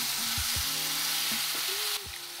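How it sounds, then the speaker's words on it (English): Garlic and turmeric frying in a pan for green tomato chutney, a steady close sizzle with a few soft knocks and stirring taps. "After a few minutes of cooking the garlic, add in the turmeric."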